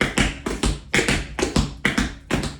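Heavy, clunky tap shoe heel steps strike the floor in a steady uneven rhythm, about a dozen close, loud hits with no talking.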